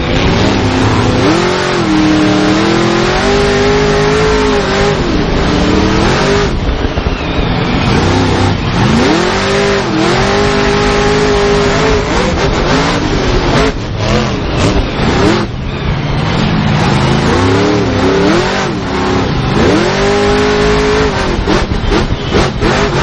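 Monster trucks at a race fire up and rev hard, loud close engines rising and falling in repeated throttle surges over a constant heavy roar, with music faintly underneath.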